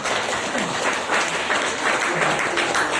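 A seated crowd at a local government gathering in West Java claps in a full, even round of applause, dense and sustained throughout with a few voices faintly mixed in.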